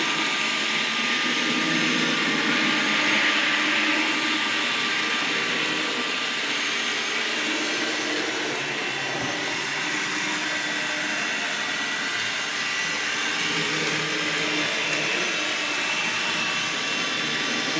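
A model railway CMX vacuum cleaning car runs along the track with a steady, continuous whirring roar that stays loud and even throughout.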